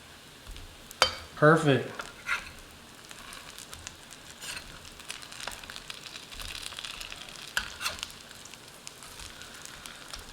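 Keto salmon patties fry in a pan with a quiet, steady sizzle and a few clatters of a spatula near the start, while a voice briefly speaks over the cooking.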